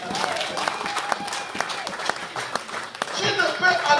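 A church congregation at a wedding celebration breaks into applause, a steady wash of many hands clapping that swells louder toward the end, with voices mixed in.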